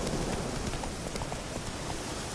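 Hooves of Geralt's horse Roach in The Witcher 3 clip-clop steadily over a soft hiss of ambient rain, the steps muffled and fairly faint.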